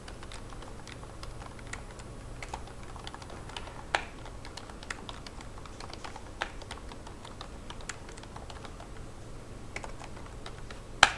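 Someone types on a computer keyboard and presses Enter, giving soft, irregular close key clicks over a low steady hum, with a slightly louder keystroke near the end.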